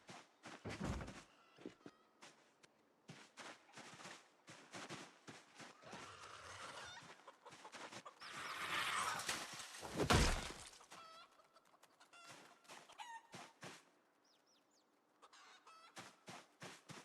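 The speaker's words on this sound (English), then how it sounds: "But there's also chickens back there, I think." Chickens clucking somewhere back in the distance, faint scattered calls mixed with rustling and sharp clattering noises, with no talking.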